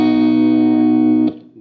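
An electric guitar chord rings through a preamp with boosted high end and a reverb pedal, sustained and loud for over a second before being cut off, leaving a brief reverberant tail.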